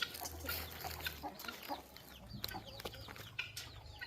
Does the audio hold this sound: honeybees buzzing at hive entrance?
no